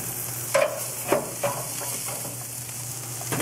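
Steaks sizzle on a barbecue grill with a steady, moderate frying hiss, broken by a few sharp clicks and pops near the start, and no talking.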